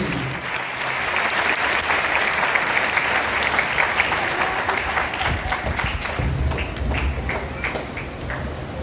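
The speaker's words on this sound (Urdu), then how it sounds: "زوردار تالیاں آج کے خوبصورت کلام کے لیے" Strong audience applause in an Urdu-speaking church after a sermon, continuous loud clapping that holds steady throughout with a little crowd noise underneath.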